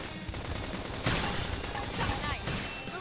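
Gunfire rattles in rapid, dense bursts during a Xenoblade Chronicles X battle, mixed with game effects and combat voices shouting over the shooting.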